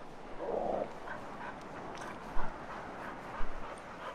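A Doberman Pinscher on an Atlantic Ocean beach gives a whimper and then two short, sharp barks at moderate distance over a steady wash of wind and surf.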